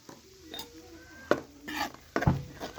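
Spoon clinking and scraping against a pan while stirring caramelized sugar for sohan halwa, the flame off; a few sharp metallic knocks and scrapes spread across a short, fairly quiet moment.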